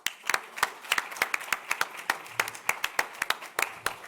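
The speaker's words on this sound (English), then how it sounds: "I think we deserve a round of applause." A small audience claps at an awards ceremony, with sparse, distinct handclaps in an uneven rhythm, close and fairly quiet, and no talking.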